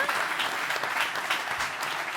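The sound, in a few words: audience applause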